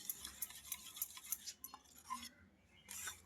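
Batter of pumpkin for steamed vadiyalu stirred in a bowl, faint close scraping and soft clinks in an uneven rhythm with short pauses.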